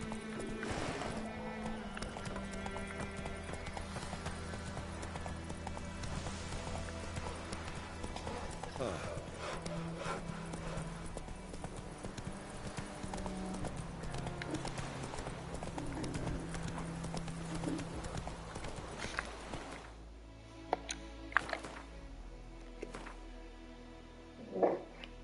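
Horse hooves clip-clop steadily at a gallop in The Witcher 3: Wild Hunt, a continuous rhythmic pounding under game music and a voice, before the run eases into scattered sharper sounds near the end.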